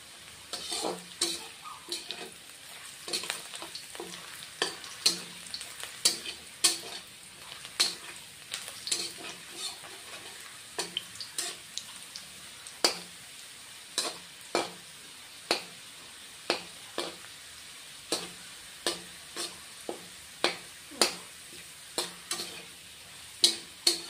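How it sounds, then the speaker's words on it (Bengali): Onions frying in a pan with fried potato and pointed gourd added, a constant low sizzle broken by regular sharp clacks and scrapes of a spatula, close up with no voices. "এই যে ভেজে রাখা আলু কাঁকরোলটা দিয়ে দিলাম।"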